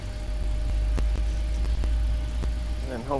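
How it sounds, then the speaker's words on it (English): Jet engines spooling up on a Boeing 737-900 in a flight simulator, a steady heavy low rumble with a faint whine above it and a few faint clicks, and a brief voice near the end. "Alright, here goes our engines."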